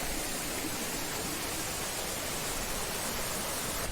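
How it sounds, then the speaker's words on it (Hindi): A fast-flowing mountain stream on a forest trek near Jibhi rushes in a steady, broadband hiss of churning water, constant and fairly close with no breaks and no voices over it. "और ये देखिए पानी की धार, और अच्छी खासी है इसकी रफ्तार"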